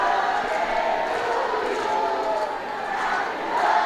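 Dense, steady crowd noise from spectators at a women's hockey gold medal match between China and India at SengKang Stadium, with voices blending into continuous singing and cheering throughout.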